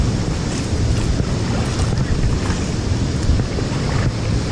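Rushing water at the Alemoa waterfall in Coronel Vivida, Paraná, roars steadily outdoors as a dense, continuous wash with wind buffeting the microphone, no voices.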